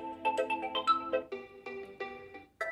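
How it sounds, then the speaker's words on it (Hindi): A Realme C30s smartphone plays one of its built-in system ringtones: a bright, melodic run of clean synthetic notes that steps along in a quick pattern, close and clear with no voices. "सिस्टम रिंगटोन देखने को मिलता है।"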